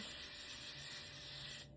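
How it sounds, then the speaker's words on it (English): A Laura Mercier Hydra Blur hydrating setting spray gives one continuous fine mist, a close, steady hiss lasting over a second and a half before it cuts off. "I'm going to go in with my Laura Mercier Translucent Setting Hydra Blur Hydrating Setting Spray"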